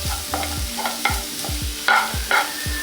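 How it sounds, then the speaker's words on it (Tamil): Onion, green chili and coriander sauté in a pan with rhythmic scraping strokes of a spatula roughly twice a second over a light, close sizzle. No voices are heard. "வெங்காயம், பச்சை மிளகாய், கொத்தமல்லி எல்லாம் வதக்கியாச்சு"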